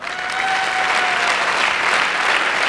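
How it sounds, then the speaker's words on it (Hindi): An audience at a motivational talk bursts into loud, sustained applause, dense clapping that swells in the first half second and continues steadily throughout. "जो सो रहे हैं ना, उनके लिए एक जोरदार ताली बजाओ पहले।"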